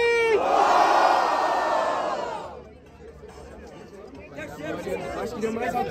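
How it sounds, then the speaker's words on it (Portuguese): A crowd at a street rap battle in São Paulo roars with cheering and shouting, loud at first and then fading into a murmuring babble before swelling again. "barulho para quem gostou das rimas de guri."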